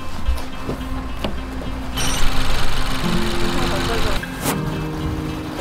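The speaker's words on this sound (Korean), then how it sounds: "시동 한번 걸어볼게요." A car engine cranks and catches partway through, settling into a steady running hum at close range, during a test of a fuel additive; voices talk over it.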